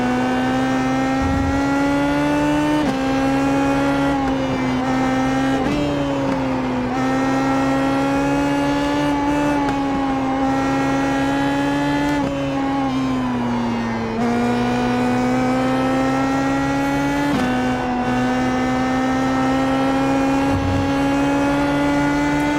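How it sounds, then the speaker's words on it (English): A PM18 race car in a racing video game powers around Suzuka, its engine holding a loud, buzzing high note that climbs through the revs and dips briefly at each gear change, sustained throughout without voices. "Finally opening the throttle here."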